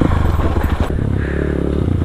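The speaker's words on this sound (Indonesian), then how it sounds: "Pakai ban aspal digas muter di tempat eh." A supermoto motorcycle on asphalt tires revving hard while spinning in place, a loud close engine roar with rapid throttle pulses and a rattling clatter.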